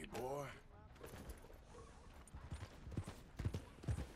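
A horse's hooves clip-clop in Red Dead Redemption 2, soft at first and then a run of heavier, irregular hoof thuds toward the end, with faint low chatter and game ambience underneath.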